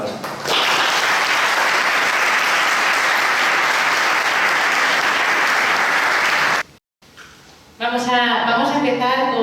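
Audience at a Spanish-language sailing talk applauds loudly and steadily for several seconds, then a short silence follows before a speaker begins talking.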